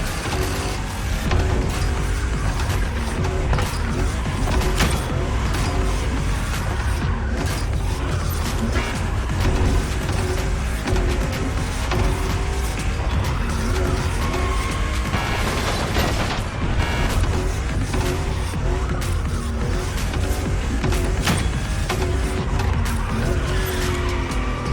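Toyota Supra, fifth generation, racing in The Crew Motorfest: a loud, steady engine roar with repeated tire squeals and skids through corners, continuous and close with no talk.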